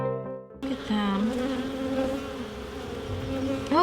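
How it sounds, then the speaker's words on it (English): Honey bees swarm and buzz densely at an open hive, a close, continuous insect drone with some individual bees passing near, with no talk over it. "Talk about busy little bees."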